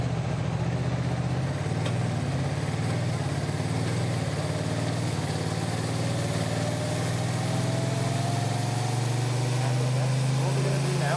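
A Honda DCT motorcycle cruises at about 60 in sixth gear, its engine droning steadily under heavy rushing wind noise, close and loud throughout.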